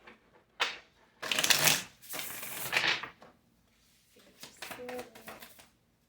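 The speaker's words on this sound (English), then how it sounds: "Alright, this will be our last shuffle." A deck of tarot cards is shuffled in several quick riffling bursts, crisp and close, separated by brief pauses with a faint voice murmur near the end.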